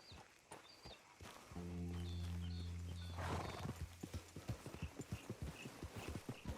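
Horse hooves clip-clop in a steady walking rhythm in Red Dead Redemption 2, with a drawn-out neigh rising over them midway; close and clear, no talking.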